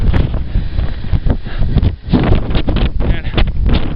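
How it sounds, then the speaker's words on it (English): Strong wind buffets the microphone on the approach to the Mount Adams summit in New Hampshire in winter, above tree line. The gusts are loud and roaring, with a brief lull midway. "The wind is getting strong."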